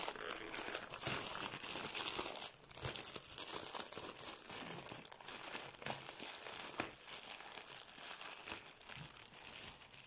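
Packaging from an online parcel is crinkled and torn open at close range, with continuous rustling, crumpling and ripping of plastic wrap.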